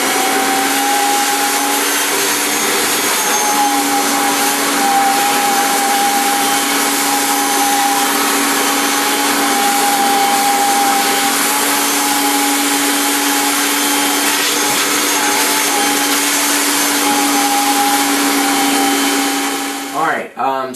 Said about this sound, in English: We're going to vacuum again, but now we're going to do under the borders and where the tack